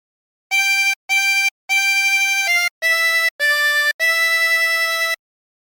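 A 20-hole tremolo harmonica plays the melody of Hark the Herald Angels Sing as a series of separate blown and drawn notes with brief gaps. The tone is bright and reedy with a wavering tremolo, close and steady, and no voice is heard.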